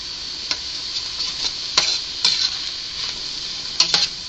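Celery browns in a pot over medium-high heat for minestrone, a steady bright hiss of frying with repeated spoon scrapes and taps roughly every half second.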